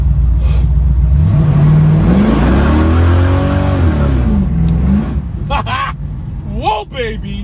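A 1981 Chevrolet Camaro on Mickey Thompson tires revs hard and climbs through the gears, its engine pitch rising and dropping with each shift, loud and close, while people talk over it and cheer.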